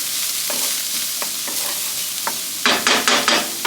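A stuffing mixture simmers and sizzles in a pan as the alcohol cooks off, with a steady broadband hiss and occasional utensil taps, then a burst of louder rhythmic stirring scrapes near the end, close and without talk.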